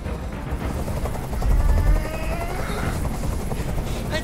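Steady helicopter rotor thumping in Detroit: Become Human, hovering close and fairly loud, with a brief heavier rumble partway through and faint voices in the mix.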